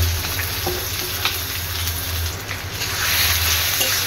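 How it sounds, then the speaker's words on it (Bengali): Chopped onion hits hot oil in a kadai while a chicken curry is being prepared, giving a steady, close, loud sizzle and crackle that runs the whole time with no talk. "এখন তেলটা একটু গরম হয়ে আসলে আমি দিয়ে দিলাম পেঁয়াজ কুচি।"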